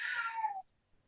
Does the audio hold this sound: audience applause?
no